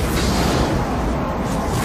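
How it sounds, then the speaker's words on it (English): A stock explosion effect reused from Star Trek VI fills the scene with a loud, sustained rumbling roar, dense low booming and crackle with no clear onset or decay, and no speech. "Roll the explosion from Star Trek 6 to save money."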